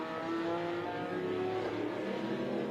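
Race cars at the ESET Cup at Oschersleben, including a Polish car and a Good Speed Racing Mercedes, roaring past on the circuit with rising and falling engine notes, loud and continuous.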